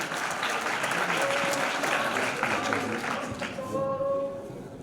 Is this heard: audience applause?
yes